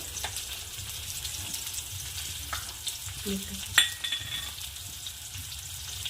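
Green chillies fry in a pan with chilli powder and turmeric, giving a steady, close sizzle with occasional stirring and a single light clink.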